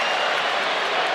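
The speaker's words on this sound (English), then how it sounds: "But he got a nice round of applause." A stadium crowd at an Arsenal versus Villarreal football match applauds a player, a dense, steady wash of clapping and crowd noise with no break.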